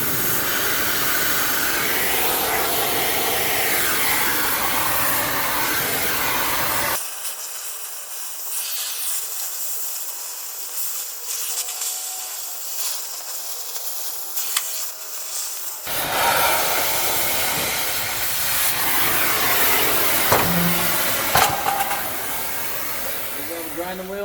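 A grinding wheel cleans up a metal trailer light mount, a harsh broadband hiss running for several seconds, cutting out, then resuming loudly after a pause.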